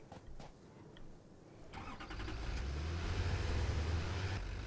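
A tractor engine in the Satisfactory video game cranks and catches, settling into a steady low rumble that grows louder and holds, after a few faint clicks, with no speech.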